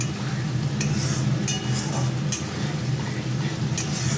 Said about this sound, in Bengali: একটু ভালো করে কষিয়ে